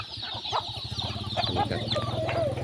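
Chickens clucking at a morning feeding on a Thai farm, a steady chorus of close, overlapping clucks and short calls with a constant low hum underneath.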